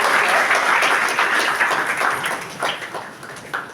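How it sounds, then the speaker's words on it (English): Audience at a college personality-development lecture breaks into loud applause, dense clapping at first that gradually thins into scattered individual claps as it winds down. "Okay, guys, a big round of applause."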